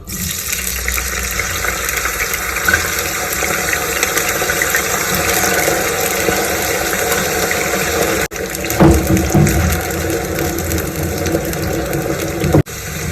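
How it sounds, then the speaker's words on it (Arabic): Potatoes frying in hot oil, a loud continuous crackling sizzle that runs unbroken and close, with a brief clatter of a utensil partway through and no talking. "الزيت بتاعي سخن، هنزل بقى بالبطاطس"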